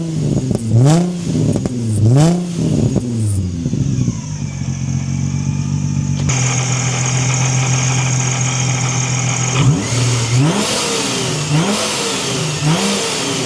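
A supercharged Infiniti G35 with test pipes and a Vortech supercharger revs hard several times, the engine note rising and falling in sweeping pulls, then settling into a steady loud idle before more rapid throttle blips near the end.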